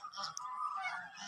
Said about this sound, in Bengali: অনেকগুলো রাজহাঁস এখানে খেলা করছে।